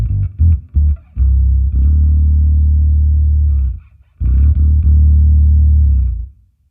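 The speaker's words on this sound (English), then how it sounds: "octaver, and then that sounds like this." A bass guitar played through an octaver pedal on a compact three-pedal bass pedalboard gives a deep, thick sub-octave tone. A few short plucked notes are followed by two long sustained notes separated by a brief gap, loud and alone with no voices.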